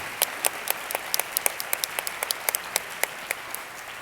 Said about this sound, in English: Let's have one more round of applause for all of our award winners and friends.